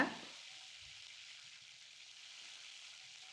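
Green chili halves and curry leaves frying in hot oil with a bay leaf for cauliflower pepper curry, giving a soft continuous sizzle that starts with a brief louder burst and then settles into a faint, even hiss.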